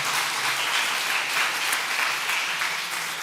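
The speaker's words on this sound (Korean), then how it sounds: "박수 한번 해주세요." Church congregation applauding during a Sunday afternoon service, steady dense clapping from many hands that holds at an even level throughout, with no voices standing out.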